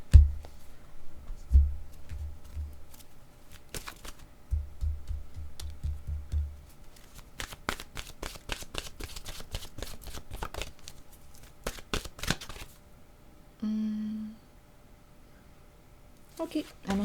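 Oracle cards being shuffled by hand in a rapid flurry of papery riffles, fairly close and moderately loud, with a few soft thumps and a brief hum near the end, no speech.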